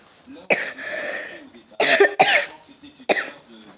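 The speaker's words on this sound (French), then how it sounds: "Désolé, je tousse." A person coughs during a Clash Royale gaming session: one harsh burst, then a quick double cough a second later and a final cough, all close and loud with short quiet gaps between.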